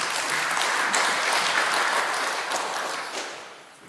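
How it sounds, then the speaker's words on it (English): Steady applause from a conference audience greeting panelists on the last day of an Ethereum conference, dense clapping that holds for several seconds and then tapers off toward the end. "please, a big round of applause to the panelists and to the panel."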